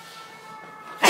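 A single sharp sneeze bursts out at the very end, loud and close, after a brief quiet lead-in.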